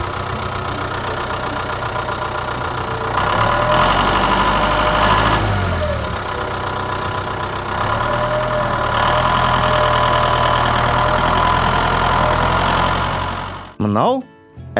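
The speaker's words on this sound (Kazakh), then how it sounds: "Бұл трактор." A tractor engine idles with a loud, steady, low chugging rumble that swells slightly a couple of times, then cuts off abruptly near the end.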